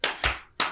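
A few sharp hand claps ring out close and loud at the end of a political talk segment, three quick bursts with short gaps between them.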